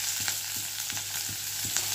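A large onion sizzling in hot oil with crushed cardamom, cloves and cinnamon, a steady close frying hiss with soft stirring scrapes at intervals.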